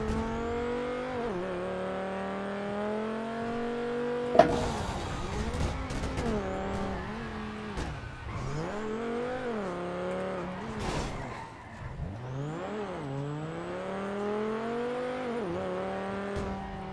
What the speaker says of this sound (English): Cars bare loud, I can't hear you.